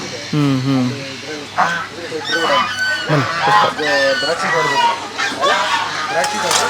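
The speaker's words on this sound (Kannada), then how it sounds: "ಒಂದು 20-25 ಡಕ್ಸ್ ಇದೆ. ಒಂದೇ ಜಾತಿಯ ಬೇರೆ ಬೇರೆ ತಳಿಗಳು." Several ducks of a few breeds, including Muscovy, honk and quack in a busy chorus, with overlapping calls throughout and a voice talking faintly underneath.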